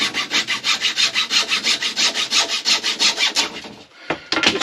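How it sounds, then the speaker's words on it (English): Wooden trim sawn to size by hand, with fast, regular back-and-forth strokes up close that stop near the end and are followed by a couple of brief knocks. "cut this bloody thing to size"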